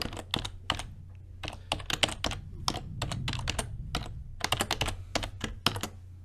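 Steady bursts of typing on a computer keyboard, keys clattering in quick irregular runs with short pauses between them, close and fairly loud with no talking.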